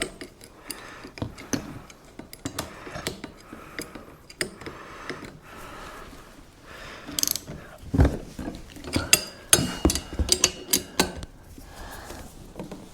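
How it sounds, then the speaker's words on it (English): A ratcheting car dolly rated for 1,300 pounds is worked in a garage, producing irregular bursts of sharp metallic ratchet clicks and clunks, close and fairly loud, with brief pauses between strokes. "And this is a ratcheting car dolly."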